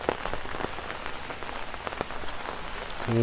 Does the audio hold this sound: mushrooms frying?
no